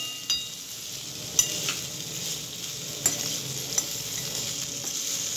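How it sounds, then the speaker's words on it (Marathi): Boiled amla, Indian gooseberries, sautéed in a pan, a soft steady sizzle with occasional scraping clinks of a spatula against the metal, close and without talk. "छानपैकी असं आवळ्याला परतवून घ्यायचं आहे।"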